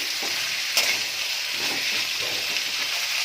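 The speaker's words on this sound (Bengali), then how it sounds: "এবার ভালো করে একটু নাড়াচাড়া করে নিচ্ছি" Yardlong beans and potatoes are stirred in a hot pan with a continuous, close hissing sizzle and a few soft scrapes of the spoon. No voices are heard.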